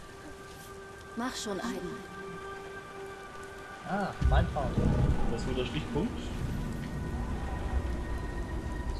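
Steady rain pours in the video game Beyond: Two Souls, with a low rumble of thunder swelling midway while people talk over it.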